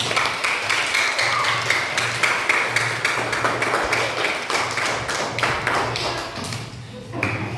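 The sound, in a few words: class applause after a presentation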